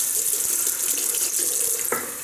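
Cold water runs from a tap into a sink with a continuous, close rushing hiss, interrupted by a couple of soft knocks.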